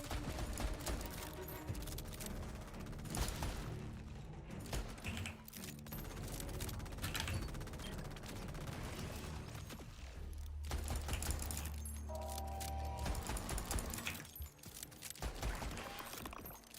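Turrets in a video game fire continuously, a dense rattle of rapid gunfire and mechanical clatter running throughout, with bursts and impacts layered at a fairly steady loudness.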